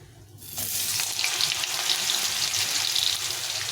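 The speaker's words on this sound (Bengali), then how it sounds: "আলুটাকে ভালো করে ভেজে নিতে হবে লাল লাল করে ভেজে নিতে" Chandramukhi potatoes fry in hot oil for cabbage ghonto, a steady close sizzle that swells after a quiet start and keeps crackling throughout.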